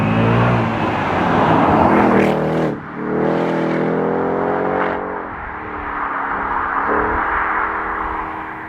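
An Audi TT RS engine accelerating hard, with a rising roar, a sharp gear shift dropping the revs near mid-way, then renewed pulling and further shifts.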